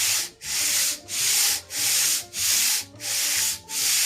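Cast-iron sole of a century-old Stanley No5 hand plane, rusty, rubbed back and forth on sandpaper; steady rasping strokes about every 0.65 seconds, loud and close, with brief pauses between passes and no talking.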